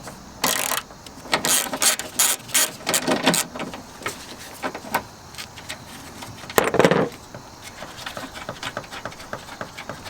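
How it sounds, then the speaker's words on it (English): Ratchet with a 10mm socket loosening a bracket bolt on a 2014-2018 Chevrolet Silverado during an engine air filter replacement, quick clicking bursts in short runs, close and fairly loud, with occasional handling clatter. "We're going to use a 10mm socket right now."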